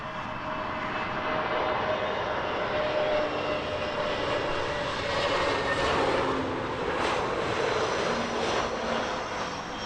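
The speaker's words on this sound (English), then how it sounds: "the JetBlue A321 NX inbound from JFK" A JetBlue Airbus A321neo inbound from JFK to Heathrow at sunrise makes a continuous, even engine roar that swells slightly partway through, with no talking.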